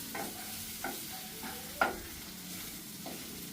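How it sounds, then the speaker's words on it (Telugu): Drumstick curry with milk being stirred in a pan, with a few soft scraping strokes of a spoon and a faint sizzle of simmering underneath, quiet and close. "ఇలా కాసేపు ఇలా కలిపెడతా"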